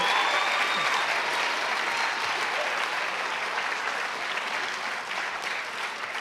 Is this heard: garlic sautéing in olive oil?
no